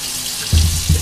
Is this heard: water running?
yes